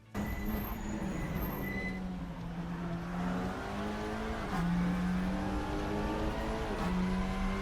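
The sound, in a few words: Leon Cupra TCR racing at Laguna Seca in the video game Assetto Corsa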